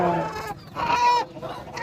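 A rooster's harsh clucking calls at a poultry market in Erode, three short bursts in quick succession, loud and close with no talking.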